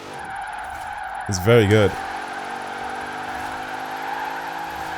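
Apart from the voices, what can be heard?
Dodge Durango Demon drifting in the video game Forza Horizon 4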